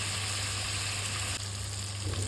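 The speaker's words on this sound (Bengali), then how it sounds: "তো মাছটা একটু ভাজা করে নিই" Fish frying in oil in a pan in a home kitchen, a steady close crackling sizzle that continues throughout with a slight shift partway, no talking.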